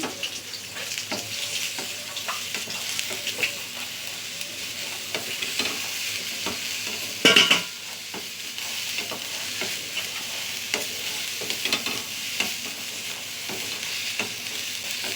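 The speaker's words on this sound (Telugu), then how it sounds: "ప్యాన్ పెట్టుకొని కొన్ని కొన్ని కాకరకాయలు దాంట్లో వేసుకొని వేయించుకోవాలి డ్రై డ్రై రోస్ట్ చేసుకోవాలి దాన్ని" Bitter gourd pieces dry roasting on high flame in a pan, a constant close crackling sizzle with repeated scraping stirs throughout and one louder clatter partway through; no voices.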